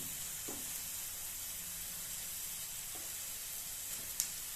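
Steady, soft sizzling of green chili and onion sautéing in a pan, a continuous hiss with a few faint pops and clinks, no talking.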